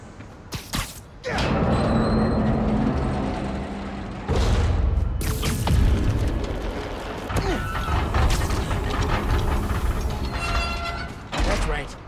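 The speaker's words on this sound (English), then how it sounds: "Gotta move another train, just like the first." Heavy metallic rumble and clanking of a subway train being pushed along tracks in Marvel's Spider-Man Miles Morales, with loud thuds and a crash near the start and a continuous grinding roll through the middle.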